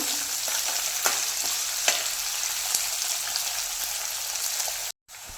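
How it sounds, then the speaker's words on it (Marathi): Chopped onion frying in a pan over a medium gas flame, a constant close sizzle with occasional sharp crackles and pops, steady throughout before a brief dropout near the end. "व्यवस्थित कांदा मिक्स करून घ्यायचा चार ते पाच मिनिटामध्ये कांदा व्यवस्थित फ्राय होतो"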